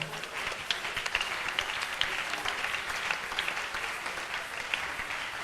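A congregation at a prayer retreat applauds the Lord, with sustained dense clapping and some cheering that holds steady throughout.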